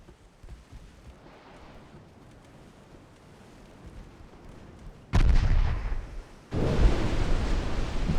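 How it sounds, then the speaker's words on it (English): Nine torpedo hits explode against a ship at point-blank range during a naval battle in a 1918 warship strategy game: a quiet rumbling lead-in, then two sudden loud, roaring blasts that sustain at full strength. "That was 9 torpedo hits. At point blank range."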